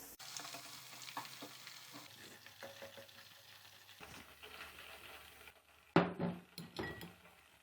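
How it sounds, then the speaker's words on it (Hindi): Chicken sizzling and frying in a pan, with steady crackle, stirring scrapes and clinks of a utensil against metal, growing louder near the end as pieces are moved or lifted out. "5 से 6 मिनट हमने चिकन को फ्राई कर लिया है।"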